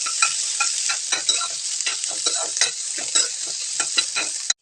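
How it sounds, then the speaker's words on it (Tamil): Sliced onions sizzle and fry in a pan for a spinach dish, a loud, steady crackle up close, broken by repeated scraping strokes of a spatula stirring them. "வெங்காயம் நல்லா வதங்கட்டுங்க."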